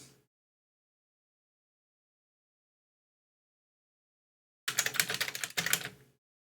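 A short flurry of typing on a computer keyboard, quick close clicks lasting about a second and a half after a long silence.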